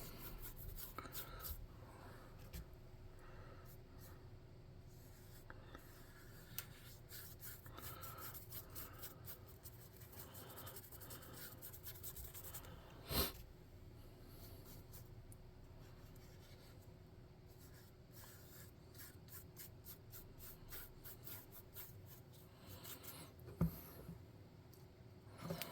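Faint, soft scratchy brush strokes while painting small wooden planks gray for a tabletop game prop, a quiet continuous rubbing with a couple of light taps and no voices.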